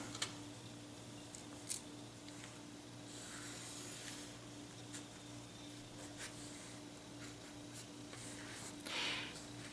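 Pencil drawing a line on paper while graphing an inequality, faint scratchy strokes and a few soft taps over a steady electrical hum, quiet and sparse with no talking.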